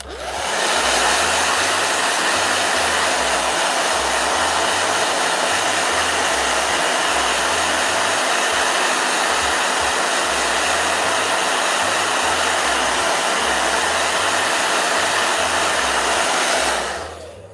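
A blow dryer runs steadily at close range, a loud, even whooshing hum that holds for most of the stretch before cutting off at the end.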